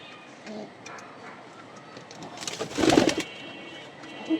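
Pigeons feeding in a loft, soft low coos scattered over light background noise, building to a louder close cooing burst before fading.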